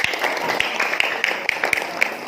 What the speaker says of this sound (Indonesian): Tepuk tangan dulu untuk masing-masing kelompok.